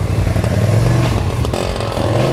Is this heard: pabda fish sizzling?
no